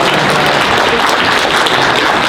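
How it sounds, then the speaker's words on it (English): A workshop audience applauds a participant with dense, steady clapping, loud and close, that holds evenly throughout the short burst. "Give Jill a round of applause"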